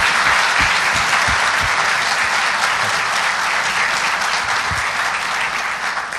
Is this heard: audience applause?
yes